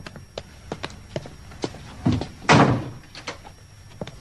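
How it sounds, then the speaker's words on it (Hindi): A front door in a Sherlock Holmes detective drama is opened with a solid thunk and a brief rush of noise, framed by a series of sharp, evenly spaced footstep-like clicks. No one speaks. "सामने का दरवाजा खुलने की आवाज आई"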